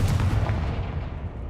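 Confringo fire spell cast in the Hogwarts Legacy video game: one booming blast that fades away over about a second.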